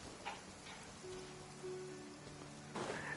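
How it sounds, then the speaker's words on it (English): Soft, steady patter of rainfall in the video game Genshin Impact, with faint low hum and a few brief brighter ticks; quiet and continuous. "It's raining again."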